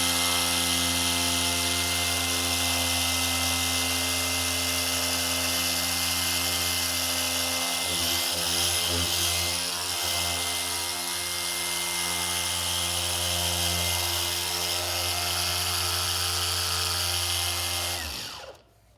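A cordless dual-action polisher with a 3000 grit sanding disc works on a car headlight, giving a loud, steady high whine for almost the whole stretch before it winds down and stops at the end.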